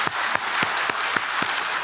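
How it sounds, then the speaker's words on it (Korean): A church congregation applauds during a Sunday worship service, steady rhythmic clapping with distinct beats roughly every quarter second under a continuous wash of hands. "감사 박수 올려드리겠습니다"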